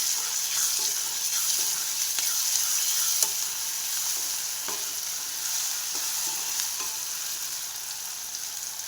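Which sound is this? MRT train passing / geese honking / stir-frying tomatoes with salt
stir-frying tomatoes with salt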